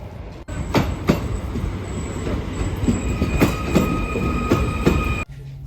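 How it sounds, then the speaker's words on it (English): Latvian Railways train at platform 4 of Ogre station, rolling past loud and close with rhythmic wheel clatter and squealing metallic tones, then cutting off abruptly near the end. "At the platform number 4, waiting for the train going towards Aizkraukle."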